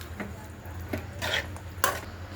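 Corn kernels and capsicum stirred in a pan, heard as a few soft scrapes and light clinks of a spoon against the pan over a low background hum.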